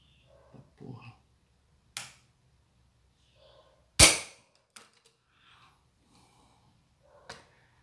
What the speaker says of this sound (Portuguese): Agora vamos efetuar o disparo em ação dupla.